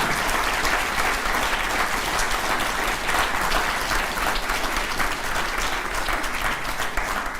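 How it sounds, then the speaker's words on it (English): Sustained applause from a school audience at a Question Time debate, a dense, even wash of clapping that holds steady and fairly loud throughout without letting up. "We won't get through the questions if you keep applauding."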